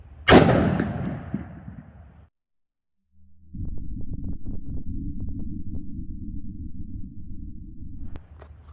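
A single heavy boom from an S&W Model 69 2.75-inch .44 Magnum revolver firing a PMC 180 grain round, loud and close with a rumbling decay, followed by a low muffled rumble.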